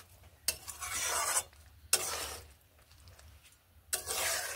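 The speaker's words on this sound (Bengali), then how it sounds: "ঘি ও গরম মশলাগুলোকে বেশ ভালোভাবে মিশিয়ে নিচ্ছি।" A spoon scrapes and stirs ghee and garam masala through a pan of cauliflower and pea curry, giving three separate rasping strokes close by with soft sizzling between them and no talking.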